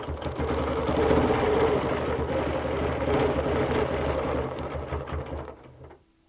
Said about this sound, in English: I will be stitching right over top of this circle.